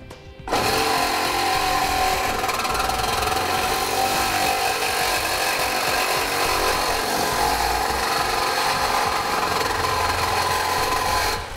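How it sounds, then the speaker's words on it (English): A reciprocating saw cuts through the bumper structure of a 2008 vehicle while a Blue Ox base plate is being fitted, a loud, steady buzzing drone that runs continuously and close up for the whole stretch. "We'll take a reciprocating saw and cut off our line."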